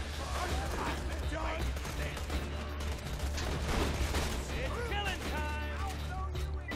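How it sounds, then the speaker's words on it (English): Gunfire in the co-op shooter Borderlands 2, a dense continuous barrage of shots and explosions mixed with game effects, loud and busy, with players talking over it. "Yeah, I'm shooting down there."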